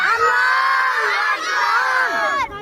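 A crowd roars back together in response to a Nara-e-Takbir chant, a loud sustained group shout that holds steady for a couple of seconds and then cuts off.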